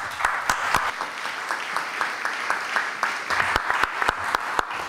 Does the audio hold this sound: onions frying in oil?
no